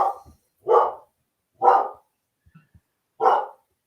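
A dog barks four times in short, evenly spaced, fairly close barks with quiet gaps between, alone with no talking.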